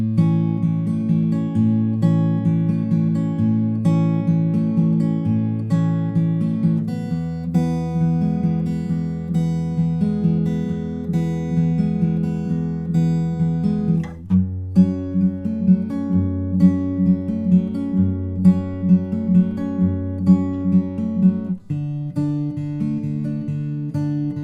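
Acoustic guitar fingerpicks a gentle chord progression, each note ringing clearly in a slow, even rhythm with no voices.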